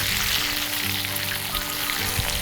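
Wagyu beef fries in a pan, a continuous close sizzling crackle with fine popping spatter throughout, steady and without pause.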